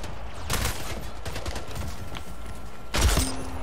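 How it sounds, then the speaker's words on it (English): Shotgun blasts in the video game Splitgate, a few sharp loud bursts near the start and a heavier one toward the end over steady game background noise. "Oh my god, the shotgun."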